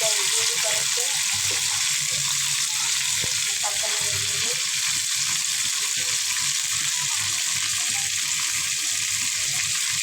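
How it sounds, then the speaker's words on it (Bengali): Chicken pieces frying in a pan at home with potato frying beside it, a loud, steady hiss of sizzling oil throughout with a few soft scraping stirs. "আর এই জায়গায় মুরগিটা আমার ভাজা হচ্ছে, লাল লাল করে ভাজিয়ে দিচ্ছি"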